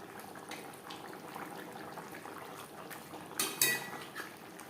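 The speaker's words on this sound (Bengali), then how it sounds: "গ্রেভির সাথে মাছ বেশ ভালো করে মিক্সড করে দেবো।" Fried fish being stirred into a simmering curry gravy in a pan for a light fish curry, with steady bubbling throughout and a brief louder clatter and scrape near the end.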